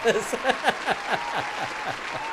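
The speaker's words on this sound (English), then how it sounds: "I'm giving myself a round of applause for that one." A short burst of applause from a small group, clapping briskly and then tapering off slightly.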